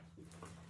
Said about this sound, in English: If you hear my dog in the background, she's breathing really.